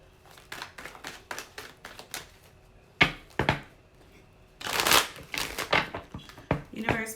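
Tarot cards are shuffled and handled in a series of sharp riffling slaps and soft shuffles, close by, with denser bursts toward the end.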